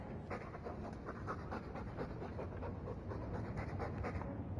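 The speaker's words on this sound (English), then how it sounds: "All that noisy dog breath, day in, day out, make him stop" Steady, rhythmic panting from a dog in the Dragon Age II video game, close and continuous, with quick breaths repeating for the whole stretch over a low background murmur.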